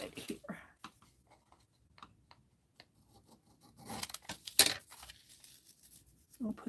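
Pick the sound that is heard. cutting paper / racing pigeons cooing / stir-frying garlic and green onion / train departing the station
cutting paper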